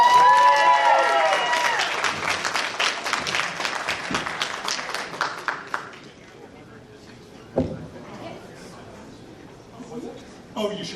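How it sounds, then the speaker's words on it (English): Audience applause at an improv comedy show, loud dense clapping that fades after about six seconds, leaving scattered claps and a few voices. "Please give them all a round of applause."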